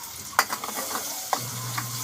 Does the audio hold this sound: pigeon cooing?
no